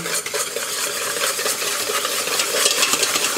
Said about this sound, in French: Un œuf entier et 2 jaunes, donc on va fouetter